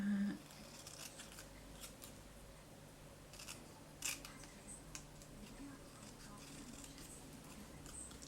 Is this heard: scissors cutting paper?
yes